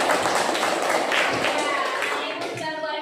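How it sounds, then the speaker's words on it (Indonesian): Classroom applause after a students' presentation, a dense wash of clapping hands that runs steadily for the whole moment, fairly loud and close. "Kasihkan tepuk tangan."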